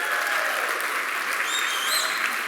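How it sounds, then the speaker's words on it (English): An audience claps in a dense, steady burst of applause that stays loud and even throughout, with faint voices mixed in. "How would you applaud in that setting?"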